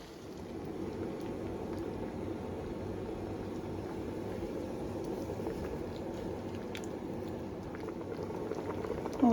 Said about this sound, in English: We just want it simmering away.